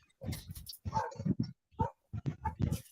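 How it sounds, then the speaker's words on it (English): An indoor dog barks and whimpers in short, close bursts with brief pauses between them, and the yips and whines run on and off. "I said the dog has been like that all day."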